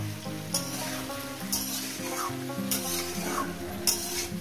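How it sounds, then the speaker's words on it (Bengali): Vegetables being stir-fried in a pan for a fish-head curry, with close sizzling and repeated scraping stir strokes over a steady tonal melody in the background. "এরপর এটাকে আমি ভালো করে সুন্দর করে লাল লাল করে ভাজবো"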